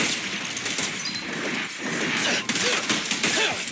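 Rapid gunfire bursts from the video game Zenless Zone Zero, dense crackling shots with crashes and impacts layered over busy, loud game effects.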